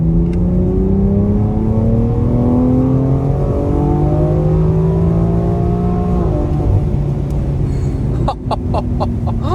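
A BMW X4 M fitted with an Akrapovic exhaust accelerates hard, its engine note rising through the revs, then dipping at a gear change and climbing again, loud and close from inside or near the car.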